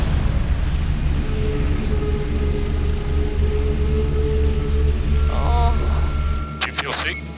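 A rescue helicopter's steady, loud rotor and engine roar fills the cabin during a paramedic winch evacuation of a snake bite patient from a gully. The roar drops away near the end, as a few brief tonal beeps and clicks sound over faint talk.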